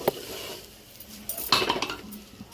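A metal spoon stirs a rice layer in a pot for chicken dum biryani, giving a few scraping clinks against the metal, with one brief tap at the start and a livelier burst of scraping midway, close and fairly quiet.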